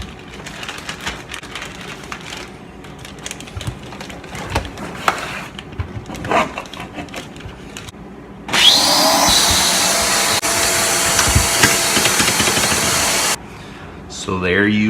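A Midwest vacuum sealer runs on a bag of garden green beans, a loud steady whirring hum for about five seconds before cutting off, following a stretch of handling noises and rustling.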